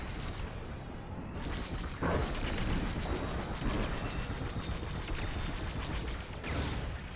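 A rocket fired at an enemy starfighter in Star Wars Squadrons, a loud roaring whoosh over dense engine and space-combat noise, with a burst around the middle and another near the end.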